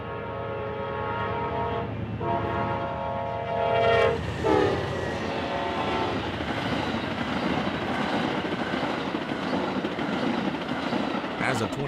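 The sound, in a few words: Amtrak Southwest Chief passenger train passing at track speed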